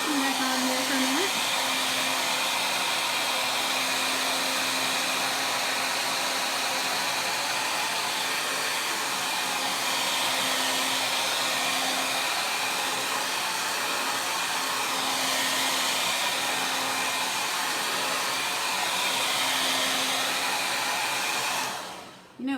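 A heat tool blows steadily for about twenty seconds to dry a chalk paste transfer, a loud, even whooshing hum that cuts off abruptly at the end.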